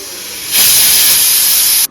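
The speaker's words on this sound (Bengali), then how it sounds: "10:15-তে আমার কুকারের সিটি পড়ছে" Pressure cooker whistle letting off steam, a loud, bright hiss that bursts in abruptly, holds steady for over a second, then cuts off sharply, heard alone and close.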